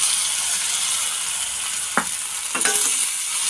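Finely chopped tomato fries with browned onion in a pan, a continuous hissing sizzle broken by a couple of sharp clinks and scrapes of a spoon stirring.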